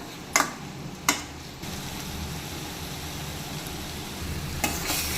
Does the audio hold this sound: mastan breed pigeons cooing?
no